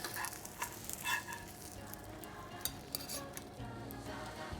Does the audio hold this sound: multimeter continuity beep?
no